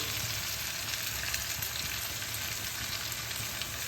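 Dry ground spices, coriander, turmeric, Kashmiri and dried chilli powder and cumin, frying with taro in a pan for cholar dal with kochu. A steady, close, even sizzle runs throughout with no talk.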